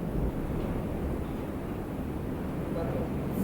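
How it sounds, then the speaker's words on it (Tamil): Wind blowing outdoors, heard as a steady low rumbling buffet across the whole stretch, with faint speech underneath. "இப்போ அடிக்குது காற்று"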